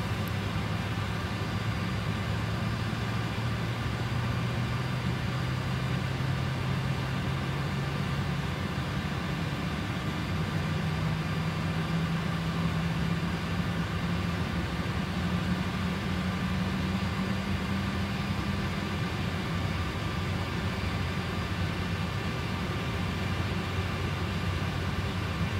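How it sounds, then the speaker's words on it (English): A Boeing 747 engine spools up in a flight simulator, a steady jet whine with a slowly rising low tone over constant broadband roar, sustained and even with no talking. "I'm going to start engine number 2 and fuel. Hear it kicking in now."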